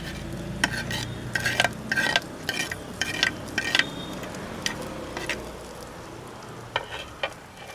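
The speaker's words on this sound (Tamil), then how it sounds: "நல்லா கிளறி நல்லா பொன்னிறமாக வதக்கி எடுக்கணும்." Onions, garlic and green chili stir-fried in a pan for a Jaffna-style clove beans dish, an even sizzle punctuated by repeated sharp clinks of a metal spoon against the pan.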